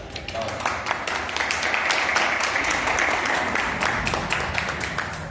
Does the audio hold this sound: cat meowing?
no